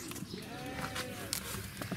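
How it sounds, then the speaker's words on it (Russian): Hungry goats bleat at the Nalchik zoo during feeding, a wavering bleat rising over close chatter and crowd noise, with people talking throughout. "Голодные все козлы"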